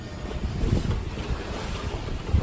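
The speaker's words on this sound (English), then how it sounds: "We're getting a little bit of breeze coming from the shore. Got the sails up. Just kind of cruising along." A sailboat cruising under sail in a shore breeze off Oahu near Diamond Head: steady wind noise buffeting the microphone over low rumbling water and hull wash.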